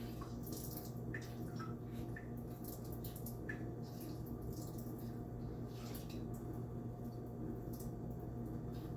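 Water drains away in a quiet, continuous trickle with scattered small drips and gurgles, faint and steady throughout.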